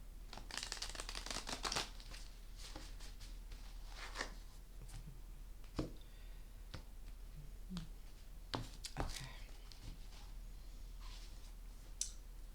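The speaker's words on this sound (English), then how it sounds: "I am using the World of Vision Tarot and a couple more shuffles" World of Vision tarot cards being shuffled over and over, a dense riffling patter broken by sharp flicks and slaps, close up with no talking.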